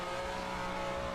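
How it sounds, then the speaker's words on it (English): Engine of a 1967 Formula One race car downshifting at the old Spa circuit in a racing video game, a steady loud mid-pitched drone with harmonic whine, continuous and close, no voices. "Austin is actually downshifting"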